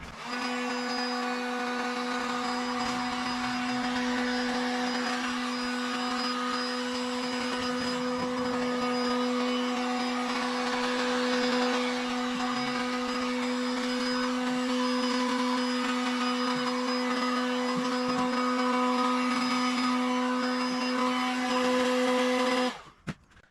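A heat gun warming a Ford Fiesta ST Mk6 headlight, a steady close whirring blower hum with a constant tonal whine running unbroken for over twenty seconds before cutting off, with no talk.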